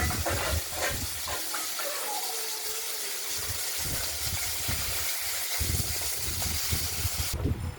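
Small fish, rubbed with salt and turmeric, sizzling in mustard oil in a wok: a steady, loud hiss and crackle of frying that runs throughout with faint stirring.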